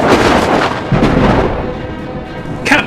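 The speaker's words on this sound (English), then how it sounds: "it was quite a storm." Heavy rumbling thunderstorm with deep rolling thunder and a dense rain wash, loud and close, swelling and fading in waves over a few seconds.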